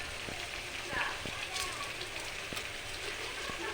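Chopped tomatoes with cumin, coriander and chilli powder sizzle and crackle softly in a pan while being stirred for a vegetarian khichuri, a faint steady frying hiss with occasional ticks.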